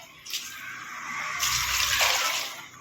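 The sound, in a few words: water being poured into a pot of tomatoes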